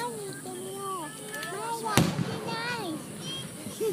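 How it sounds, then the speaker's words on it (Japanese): Fireworks display at Takataki, a single sharp bang from a distant burst near the midpoint, heard beneath continuous excited chatter and voices from a crowd of onlookers. "遠くだったらでっかい花火がちっちゃい花火になっちゃうよ"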